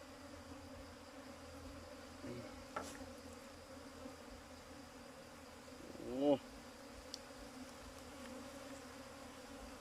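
Wild honey bees at a nest inside a tree cavity, a steady faint insect hum with one brief louder buzz as a bee passes close.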